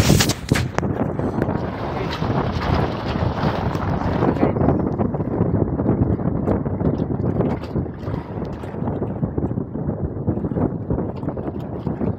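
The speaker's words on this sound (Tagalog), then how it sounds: "Hangin guys" Strong wind buffets a microphone out on the water near a boat, a loud continuous roar that stays dense and rough throughout, eases slightly partway through, and carries occasional knocks.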